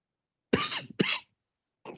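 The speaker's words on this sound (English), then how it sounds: "it was a genuine cough" A person coughs twice in quick succession, close and fairly loud on a live radio phone-in, followed after a pause by a shorter, fainter cough.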